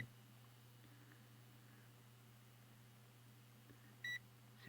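A continuity tester probing a radio tuner coil in an Echophone EC 600 AM radio gives a short electronic beep near the end, after a steady low hum and faint handling clicks.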